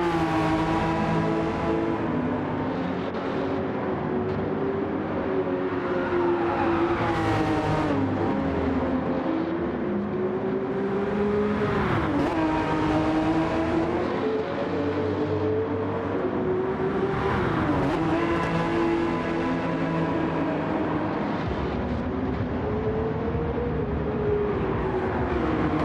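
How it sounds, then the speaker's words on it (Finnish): A Porsche race car engine on track, heard from on board: a loud continuous engine note rising and falling through repeated upshifts and downshifts, with no talk. "Nyt saatte hetken kuunnella Porschen suloisia sointuja."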